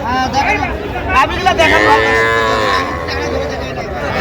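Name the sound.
Sahiwal heifer calf mooing at cattle market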